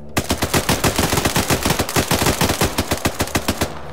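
Bursts of heavy automatic fire from a vehicle-mounted .50 caliber machine gun in a video game, loud and close, with rapid rhythmic shots continuing for about four seconds before stopping abruptly.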